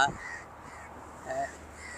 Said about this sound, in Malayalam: പ്രവാസിയായ കാക്ക